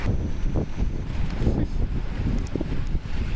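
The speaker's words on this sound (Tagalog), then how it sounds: "Hinahangin-hangin lang dito." Steady wind blows and buffets outdoors in Japan, a low rushing rumble that continues throughout, with no voices.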